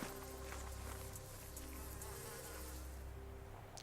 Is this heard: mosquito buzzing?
yes